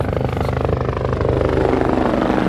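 Steady, loud rotor thump of a helicopter passing close overhead, a dense rhythmic chop with engine roar filling the whole stretch without pause.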